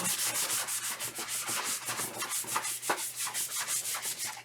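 Rhythmic back-and-forth rubbing of sandpaper on wood, steady strokes repeating about five times a second, close and continuous.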